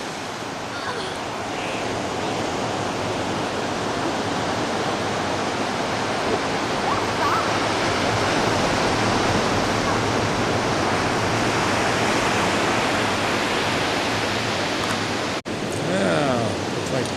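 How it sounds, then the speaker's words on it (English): Ocean surf rolling onto a sandy beach at Swansea, Tasmania, on a cloudy day, a steady loud roar of broadband wash lasting throughout with little break. "Where the ocean roars."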